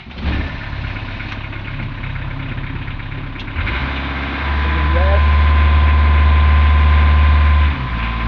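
A boat engine on the Norfolk Broads rumbles steadily at close range, then turns over and settles into a louder, deep idle that holds for several seconds before cutting back.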